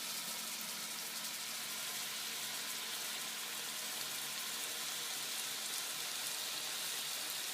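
Pork butt searing in a hot pan for pulled pork, a loud, steady broadband sizzle and crackle that stays even and close throughout with no talking.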